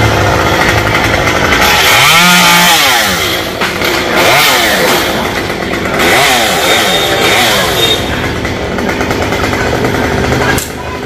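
A chainsaw revs up and down loudly and close, cutting through small, tough branches of a tropical almond tree near power lines in several bursts, its pitch dipping under load.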